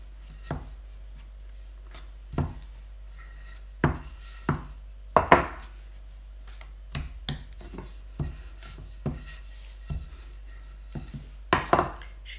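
A knife cuts through cake dough in a baking tray, producing a series of sharp irregular taps and thuds against the tray, spaced out with quiet gaps and a low background hum, no speech.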